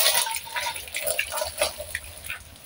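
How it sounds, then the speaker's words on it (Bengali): Water is poured over a calf during hot-weather care, giving irregular soft splashes and trickles with a gurgling patter, fairly quiet and close, with no talking. "এরকম ভাবে পানি দিতে হবে।"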